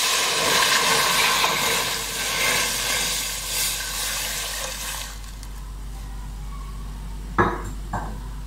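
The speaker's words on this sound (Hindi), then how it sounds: "अब इसमें हम दूध डालेंगे।" Milk pours into a pot for a milk sharbat, a close, steady liquid rush and splash that fades midway. Two sharp metallic knocks of the pot follow.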